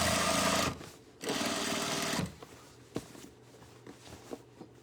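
A sewing machine stitches fabric for a tote bag in two loud steady whirring runs, then stops, leaving faint clicks and handling sounds.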